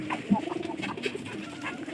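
Domestic colored pigeons in a loft coo softly, with low murmuring calls repeating through a light background hum.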